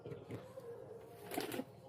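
A male Fatka pigeon gives a short, faint, low throaty coo, with a soft burst of rustling near the end.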